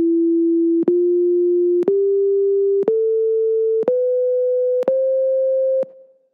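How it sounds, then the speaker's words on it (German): A Pythagorean scale is played as six steady, pure, sustained tones, each stepping a little higher in pitch. Each tone is separated by a brief click, and the sequence ends abruptly after about six seconds. "Hört hier den Unterschied zwischen einer pythagoreischen Tonleiter"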